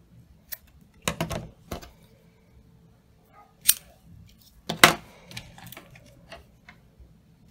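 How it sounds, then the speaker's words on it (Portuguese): Scissors snip through pompom ribbon while hair clips are being made, giving a few sharp, separate close-up cuts and clicks spread over several seconds of otherwise quiet handling. "E agora aqui eu vou cortar e vou finalizar."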